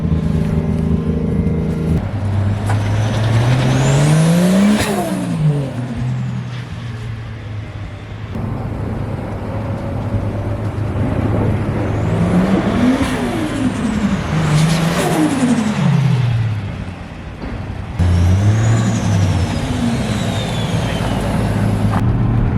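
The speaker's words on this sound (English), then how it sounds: "we are driving the car" A Toyota JZX car drives and accelerates up close, its engine note climbing in pitch through several strong revs and gear changes over a steady road rumble, with no talking.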